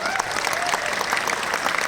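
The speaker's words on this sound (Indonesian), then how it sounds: "Pak, tepuk tangan bagi dia." An audience at an Indonesian motivational talk for workers and job seekers claps steadily and densely, a continuous close patter of hands with murmuring voices beneath.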